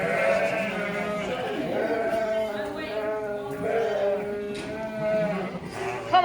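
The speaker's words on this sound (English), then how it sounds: "First batch of sheep going in." Sheep in a pen on a farm at shearing time bleat over and over, several animals calling close by in a steady, overlapping chorus with no pauses.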